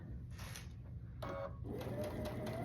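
Sewing machine stitching a quarter-inch seam while string piecing quilt blocks, short bursts of buzzy mechanical stitching separated by pauses, close and moderately loud, with faint low room noise beneath.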